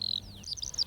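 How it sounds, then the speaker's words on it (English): Skylarks sing in open countryside on the Mönchgut Peninsula of Rügen, a quick run of high thin chirps and trills, faint and brief over low wind rumble. "You can hear the beautiful chorus of all the skylarks."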